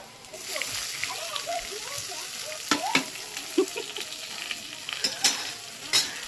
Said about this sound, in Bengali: আলুটা বেশ লাল করে ভেজে নিয়েছি এর মধ্যে টমেটোটা দিয়ে দেবো